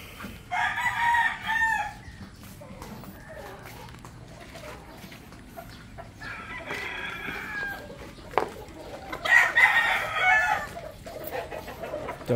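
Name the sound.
fighting rooster crowing and clucking during feeding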